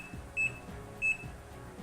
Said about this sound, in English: We're going to set the timer for 3 minutes.